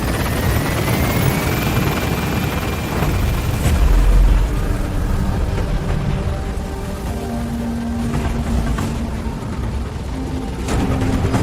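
A support helicopter lifts off in Metal Gear Solid V, its rotor roaring loud and continuous, with a whine that rises early on and low rumbles near the middle, no talk.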